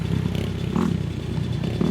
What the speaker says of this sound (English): Bike's a little bit too small for him, but it does have enough horsepower for him.